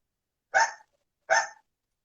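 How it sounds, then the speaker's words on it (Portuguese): A dog indoors at a home barks twice, two short, evenly spaced, loud barks alone against silence, heard over a video call. "Tem um cachorro aí"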